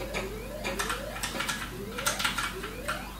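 Electronic game sounds from TI Invaders running on a TI-99/4A FPGA clone: repeated descending synthetic sweeps with bright bursty tones, steady and moderately loud throughout, no talking.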